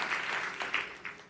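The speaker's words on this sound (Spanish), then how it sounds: "denle un fuerte aplauso al Señor" A church congregation claps in a short burst of applause, moderately loud and rising in a few swells, with no clear speech over it.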